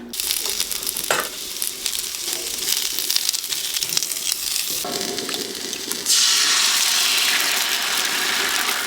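Zucchini and onion sizzle in a hot pan inside a truck camper, a steady frying hiss with a few scrapes and stirs that grows louder and brighter partway through.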